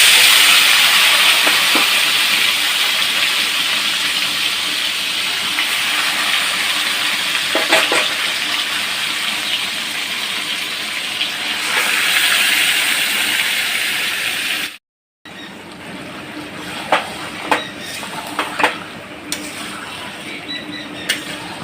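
Chicken meat with whole cumin seeds sizzles loudly in hot oil in a wok, a dense continuous hiss that cuts off briefly, then resumes slightly quieter with scattered pops and crackles.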